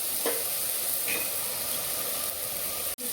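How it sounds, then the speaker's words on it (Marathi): Goat fat frying in a hot pan with no added oil, rendering its own fat: a steady close sizzle and crackle with a few small pops, continuous throughout. "आता आपल्या चरबीला हलकं हलकं तेल सुटत आहे"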